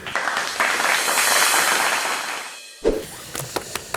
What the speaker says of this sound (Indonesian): Tepuk tangan buat Romi